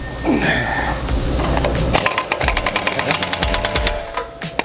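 Impact wrench rattling a self-locking nut onto a KAGE Under-Hitch 8000 Series on a John Deere 4066R compact tractor: after a steady hum, a rapid hammering burst of close, sharp metallic blows runs for a couple of seconds.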